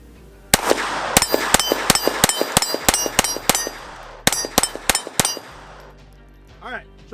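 A Sig Sauer P322 .22 pistol firing Winchester Wildcat 22 rounds in quick succession, about fifteen sharp, loud cracks in two rapid strings with a brief pause between them, followed by faint ringing.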